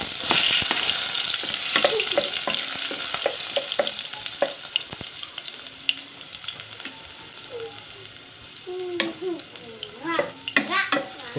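Long beans and aromatics for adobong sitaw sizzle in a hot pan while being stirred, a steady frying hiss broken by repeated scraping and clanking of a utensil against the pan, close and with no talk.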